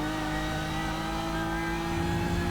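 BMW M4 GT3 race car engine from the iRacing sim, a steady loud drone with sustained harmonic tones, held at constant revs throughout with no talk.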